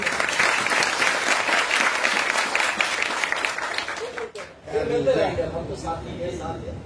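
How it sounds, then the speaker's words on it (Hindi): Loud, sustained audience applause for a guest speaker at a training session in a Satyagraha ashram, dense clapping that fades near the end as a voice begins talking over the thinning claps. "एक बार जोरदार ताली बजाइए सर के लिए।"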